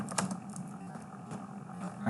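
Keyboard typing while entering git commands, a run of soft irregular key clicks under a steady background hum, fairly faint and close.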